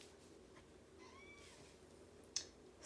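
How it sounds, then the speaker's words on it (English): A kitten gives a short, thin meow, quiet and a little distant, in an otherwise hushed room, followed by a small tap. "Sorry if you hear my kitten in the background."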